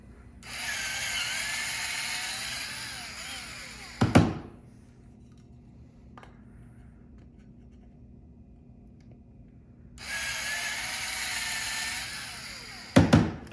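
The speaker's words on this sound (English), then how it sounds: "So I'm going to let the drill bite, and then I'll put some downward pressure this way to make sure that the screws won't jam." A power drill spins up and bites into material while driving screws for an Orion StarBlast telescope setup, two sustained whining bursts of several seconds each, each ending in sharp thunks, with a quiet pause between.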